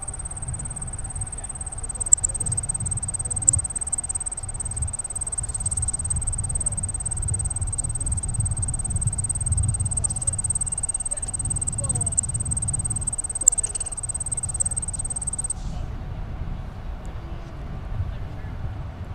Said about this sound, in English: So that chirping sound, by the way, those are grasshoppers.